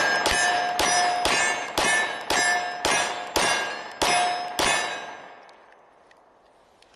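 Rounds from a SIG Sauer P365 pistol striking a steel target, eight ringing metallic clangs in a quick, even rhythm, each ring overlapping the next, with the final ring fading out.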